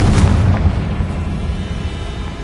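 Confringo fire spell in Hogwarts Legacy, a loud rumbling explosion with a sharp initial burst that decays into a sustained low roar across the whole stretch, with no talking.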